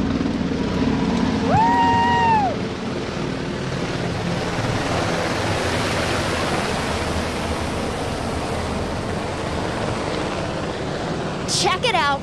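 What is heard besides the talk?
UH-60 Black Hawk helicopters flying low overhead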